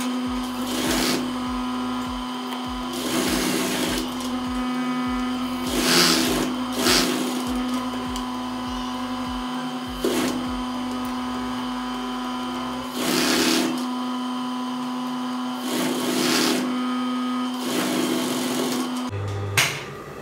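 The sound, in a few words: sewing machine stitching jogger pants leg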